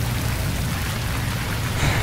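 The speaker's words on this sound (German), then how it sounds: "weil es jetzt regnen wird" Steady rain pours down in the survival game Stranded Deep, a dense, continuous hiss of falling water with a low rumbling wash beneath it, loud and unbroken throughout, with no voices.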